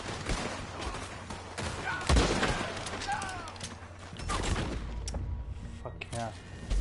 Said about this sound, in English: No more explosive bullets, so let's use the sniper rifle.